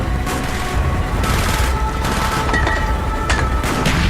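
Mortar and gunfire in Call of Duty Black Ops, in a snowy Arctic Circle combat mission, with dense, loud bursts of shooting and booming blasts running continuously over a rumbling battlefield background.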